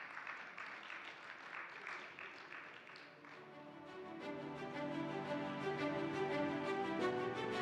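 Audience applause after a speech at an international forum on global faith and culture, faint, scattered clapping for a few seconds before music swells in.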